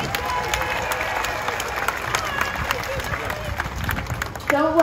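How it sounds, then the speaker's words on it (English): A crowd applauds a sea lion at the Coney Island aquarium's outdoor Aqua Theater show, with steady clapping and cheering throughout and some voices mixed in. "we'll give him a big round of applause before he goes"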